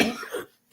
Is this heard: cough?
yes